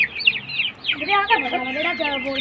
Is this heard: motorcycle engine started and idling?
no